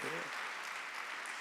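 Church congregation clapping together during a Korean Sunday worship service, a steady dense wash of applause filling the room from start to end, with a voice faintly under it.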